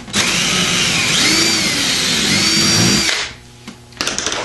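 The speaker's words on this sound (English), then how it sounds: "Drill a hole." Power drill boring a hole through a composite front splitter on a C6 Corvette, a loud close steady whine lasting about three seconds, then winding down, followed by faint handling clicks.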